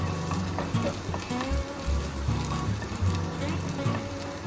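Small onions sizzle in hot oil in a pan for Kerala-style rasam, a continuous crackling fry with low kitchen background and some faint voices underneath.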